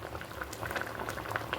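Cauliflower curry simmers at a full boil in a pot, with soft, close, continuous bubbling and little popping blips, quiet and steady without any talking.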